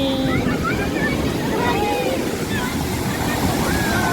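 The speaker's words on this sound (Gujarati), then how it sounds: "એ આવ્યું આવ્યું આવ્યું મોટું મોજું આવ્યું" Large ocean waves roar and crash continuously while voices call out over the surf during an idol immersion.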